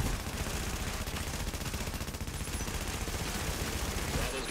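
Continuous gunfire from The Division, dense overlapping rapid shots and bursts filling the whole stretch at a steady loud level, with no clear talking.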